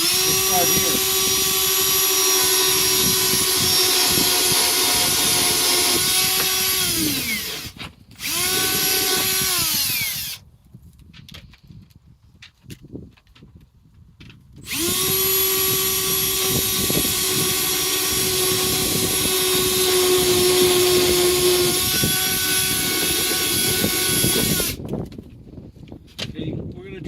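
Power drill boring holes into a plastic worm composting bin, a loud, close whine that runs in long sustained bursts with short pauses between them, spinning down at each stop, with a voice talking in the gaps.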